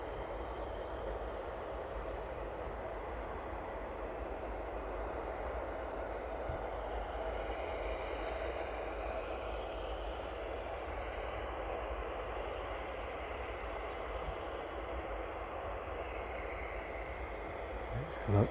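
Steady broadband engine roar of a Boeing 757 taxiing onto stand at East Midlands Airport, heard from a distance as a continuous drone; a voice talks briefly over it.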